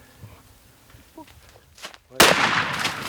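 A single loud rifle shot cracks out on an elephant safari in Botswana, a sharp broadband blast near the end followed by a ringing rumble, after quiet bush ambience with faint footsteps and low murmuring voices.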